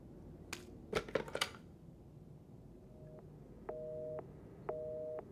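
A telephone in the Resident Evil 7 game plays a repeated electronic tone, with two steady beeps in the second half, each lasting about half a second, after a few short clicks near the start.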